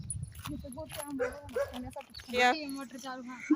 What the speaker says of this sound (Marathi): कुत्रे सारखे तू नवीन आले म्हणून भोकायला लागले